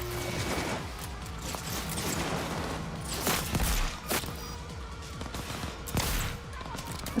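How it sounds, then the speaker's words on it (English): A small poison gun fires in the video game Cyberpunk: dense, rapid gunfire crackles steadily over a busy game soundscape, with a few sharper shots standing out. "this little gun is quite nice because it poisons"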